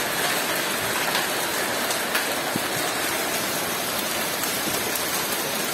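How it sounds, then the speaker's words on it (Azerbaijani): Large hailstones pour down at night in Baku, hammering on car roofs in a dense, loud, continuous hiss and patter with scattered sharper impacts. "Baxın, nə irilikdə dolu yağır."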